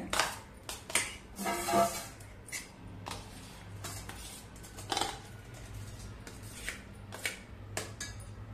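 Soaked garden cress seeds scooped into another pot, heard as intermittent clinks and scrapes of a metal spoon against a vessel, close and fairly quiet with pauses between strokes.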